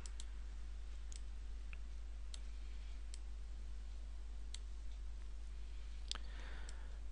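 Sharp mouse clicks in Adobe InDesign, a few isolated and some close pairs as double-clicks, spaced irregularly over a steady low hum in an otherwise quiet room.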